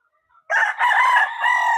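A backyard gamefowl rooster crows loud and close in a single drawn-out cock-a-doodle-doo, preceded by a faint short note, with no other sound around it.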